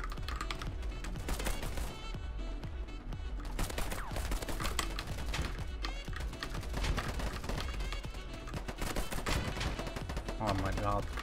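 Rapid VSS rifle gunfire in the shooter game Polygon, dense repeated shots and battle noise crowding the whole stretch, loud and continuous, with speech mixed in.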